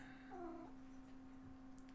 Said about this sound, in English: That's my cat, not a viewer.